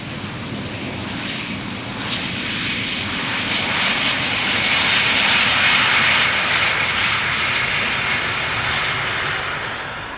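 A British Airways jet arriving at Amsterdam Schiphol, its engine roar swelling gradually to a loud peak midway and then fading, a continuous whine over broad rushing noise with no talk.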